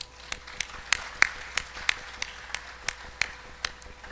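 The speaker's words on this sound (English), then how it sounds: "So give yourselves a round of applause." Scattered audience clapping at a student athletics awards evening, a dozen or so separate sharp claps spread evenly over a few seconds, thin and sparse rather than a full ovation, with faint room noise and no talking.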